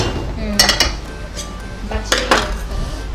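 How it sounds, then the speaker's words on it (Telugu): Cookware clatters as a pan is picked up and handled in a home kitchen, a few sharp metallic clinks and knocks grouped early and again near the end, close and fairly loud against low room noise. "ఇంకొక ప్యాన్ తీసుకుంటున్నాను నేను ఇక్కడ"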